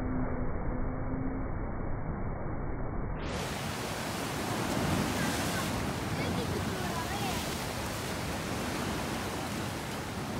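Sea waves washing and splashing against coastal rocks in Cinque Terre, a steady broadband roar of surf with wind buffeting the microphone, continuous and fairly loud, with faint voices under the noise.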